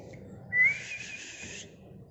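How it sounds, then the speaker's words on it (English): A whistle sounds once at close range, a short rising chirp followed by a sustained shrill tone of about a second over a quiet background, with no voices. "whistle कौन बजाता है? पुलिस. और हम भी बजाते हैं."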